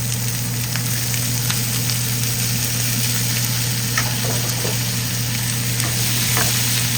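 Cut beetroot pieces frying and being stirred in a pan, a close, constant crackling sizzle with occasional scrape-like stirring accents and a low steady hum beneath, no voices.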